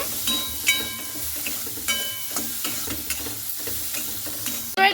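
Potatoes, carrots and chillies being stirred in a pan for an oil-free tiffin dish, with a soft continuous sizzle and repeated scraping strokes of the spoon against the pan, ending in a sharp metallic clatter.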